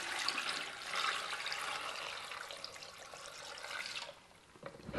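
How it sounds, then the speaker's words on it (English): Water pours into a rock tumbler barrel holding crazy lace agate rocks, a close, continuous splashing trickle that fades near the end before a brief final splash, with no voices. "I'm gonna put in water."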